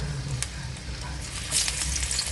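Three garlic cloves and a piece of scallion sizzling in heated oil, a steady close crackling fry with occasional sharper pops.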